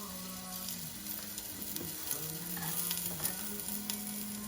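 Onions frying in hot oil inside a pressure cooker, a steady close sizzle with occasional stirring scrapes and faint tonal hum throughout, no voices.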